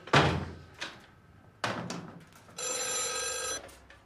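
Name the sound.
telephone ringing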